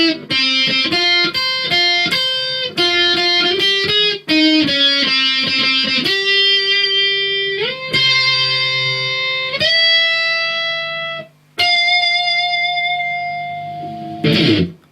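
Distorted electric guitar solo, a run of quick picked notes settling into long sustained bends and held tones, loud and up front with no talking.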